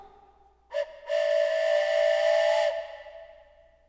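A steam train whistle blares as a Twitch hype train alert: a brief toot, then one long steady blast of about a second and a half, loud and alone over a quiet background.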